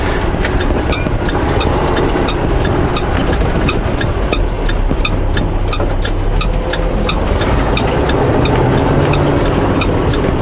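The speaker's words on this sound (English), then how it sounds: "Oh, I have engine brakes on." A truck's engine brakes run on a country road in Saskatchewan, just past the end of gravel, with the loaded trailers behind. They give a steady, loud, low rumble with a fast, even pulsing that continues for the whole stretch and has no talk over it.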